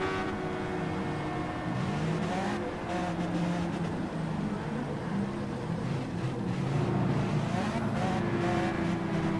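A race car on the Deep Forest track in Gran Turismo 7, with a continuous engine drone and shifting revs that hold steady at a moderate level throughout.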